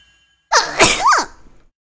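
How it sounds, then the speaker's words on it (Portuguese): A single loud, odd sneeze from a young woman bursts out up close, with a sharp intake, a strong burst and a brief trailing squeal before silence. "esse foi o espirro mais estranho que eu escutei na minha vida"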